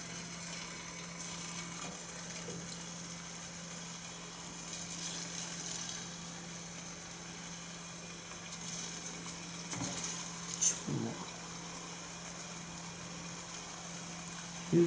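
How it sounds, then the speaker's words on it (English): Meatballs fry in a pan for a tomato-sauce dish, giving a steady, even sizzle throughout with a faint low hum beneath and a few brief clinks near the end. "So now we are ready to fry in our meatballs."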